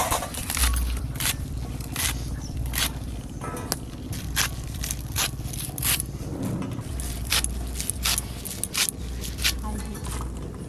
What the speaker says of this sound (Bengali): পেঁয়াজ পাতাগুলো কেটে নেবো।